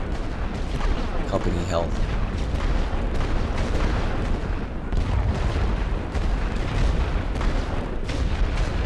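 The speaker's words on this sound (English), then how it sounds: "We'll go ahead and bombard them." Artillery bombards an enemy trench in a WW1 Western Front strategy game, a dense continuous rumble of booms and blasts filling the scene while a voice talks over it.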